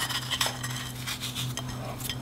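A utensil clinks and scrapes against a bowl while prawns are mixed with onion powder, Cajun seasoning, salt and soy sauce; several short, light metallic taps and stirring scrapes sound close-up over a steady low hum, without talking.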